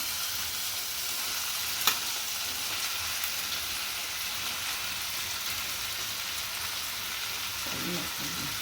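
Paneer and mushrooms fry in a hot pan for chili paneer, a constant close hiss of sizzling oil with a single sharp clink partway through and a brief stir near the end.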